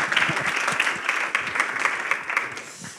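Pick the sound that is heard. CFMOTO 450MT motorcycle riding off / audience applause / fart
audience applause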